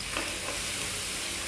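Food sizzles steadily in a pan while a utensil stirs and scrapes through it, a constant crackling hiss with no talking.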